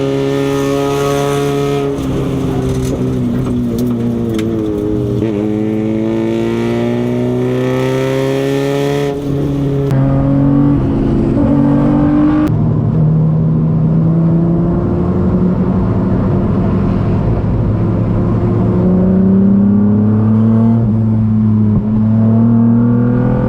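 Race cars roaring past on a track during an amateur race that includes a cheap Mustang, a loud continuous engine drone with rising and falling pitch as cars accelerate and pass, up close with no talk.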